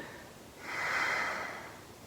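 A single slow, audible exhale through the nose during a hatha yoga session, swelling gently and fading over about a second and a half against quiet room tone.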